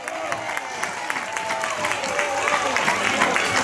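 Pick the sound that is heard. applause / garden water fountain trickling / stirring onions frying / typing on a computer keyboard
applause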